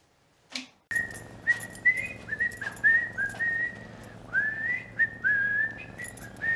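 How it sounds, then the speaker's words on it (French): A person whistles a wandering tune of short, bright, sliding notes, fairly close and alone over a low steady room hum, after a brief soft noise at the start. "Vous sifflez beaucoup, là,"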